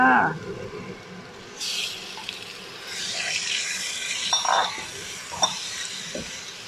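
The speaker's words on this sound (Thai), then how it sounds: "ผัดกระเทียมให้หอมนะคะ เสร็จแล้วตามด้วยปลาหมึกเลยค่ะ" Squid stir-frying with chopped garlic in hot oil for a salted-egg squid dish, a steady sizzle with scraping and clinks from the pan, and brief speech over it.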